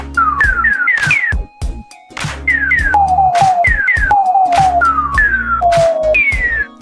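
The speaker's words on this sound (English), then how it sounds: "Oh, I didn't know you could whistle." A person whistles a melody in short, bright phrases of rising and falling notes, close and clear with brief pauses between phrases and no talk over it.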